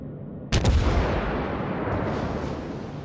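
Incoming shells in a World of Warships naval battle, a sudden loud boom followed by a long, rumbling roar of impacts and water that slowly fades.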